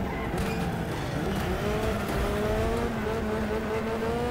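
Engine of a car in Next Car Game, a tiny demolition derby, revving with rising and falling pitch, loud and continuous, with a brief crash-like burst near the start.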